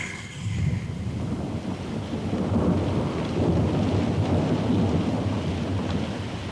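An afternoon thunderstorm brings steady, heavy rain and a continuous deep rumble of thunder. The sound holds loud and unbroken, swelling slightly midway, with no voices.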